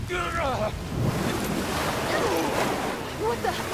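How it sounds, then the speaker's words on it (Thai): Sea waves surge and wash in Resident Evil 6, a rough continuous roar of surf and wind with voices speaking over it. "น้ำทะเล"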